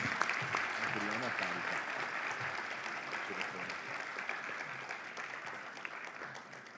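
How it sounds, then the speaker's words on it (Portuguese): An audience applauding at an award ceremony for essay and drawing prizes, steady sustained clapping from a crowd indoors that fades slightly toward the end, with a voice faintly present underneath. "Vamos aplaudi-las."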